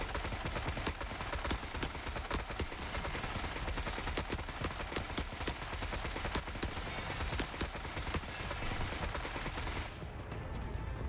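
Bursts of rapid gunfire roll continuously through a firefight in the video game Forever Winter, dense and fairly distant-sounding under the mix, with no break in the shooting.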